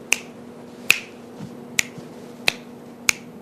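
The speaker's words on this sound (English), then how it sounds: "let's snap your fingers there for a minute, okay? One more time." Five crisp finger snaps ring out at a steady pace of roughly one every 0.7 seconds. They sound close and distinct, with a faint steady hum underneath and no talking.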